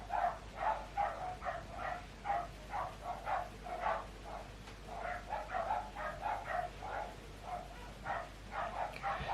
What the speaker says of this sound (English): can you hear the dogs saying hello to you?